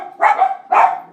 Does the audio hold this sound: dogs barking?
yes